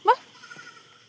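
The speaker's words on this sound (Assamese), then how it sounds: "এইকেইটা ছাগলী ঘৰলৈ আহিছে" A single short goat bleat sounds close and loud at the start from local goats kept at home, then fades into faint background noise.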